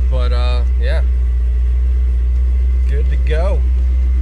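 A Chevrolet C5 Corvette engine runs at a steady idle, a loud, constant low rumble that continues under someone talking nearby.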